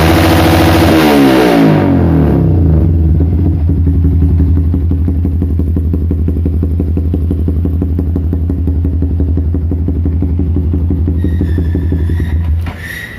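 A Yamaha New Vixion Advance motorcycle on a standard ECU, fitted with a loud Proliner exhaust, revs sharply at first, then settles into a steady, throbbing idle that stays close and loud before cutting off near the end.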